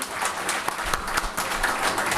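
A ceremony audience at a birthday and honour event claps together in a brief, steady burst of applause, a dense crowd patter heard from within the hall.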